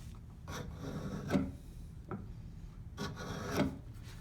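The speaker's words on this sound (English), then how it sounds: "I just want to score it and kind of scratch it." A blade scoring and scratching a shallow line into wood for a rabbet, heard as quiet, close rasping strokes repeated several times with short pauses between.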